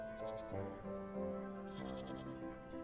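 Several sheep in the video game Wytchwood bleat in quick succession, clear wavering cries overlapping one another against a quiet background.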